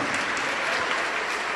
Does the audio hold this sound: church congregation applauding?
yes